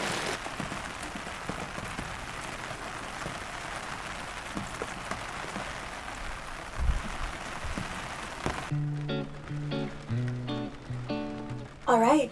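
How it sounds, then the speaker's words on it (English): Rain falls steadily on a sailboat at anchor, a dense continuous patter for most of the stretch, then cuts off as a voice starts talking near the end. "The rain is coming."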